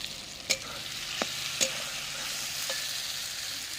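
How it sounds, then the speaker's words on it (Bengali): Chopped tomato sizzles steadily in a pan for a clay-pot chicken dish, with a low frying hiss and a few sharp scraping knocks from the spoon as it is stirred. "দিয়ে দিচ্ছি একটা টমেটো কুচানো"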